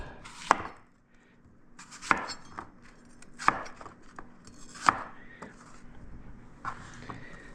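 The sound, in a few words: slicing Granny Smith green apple on a cutting board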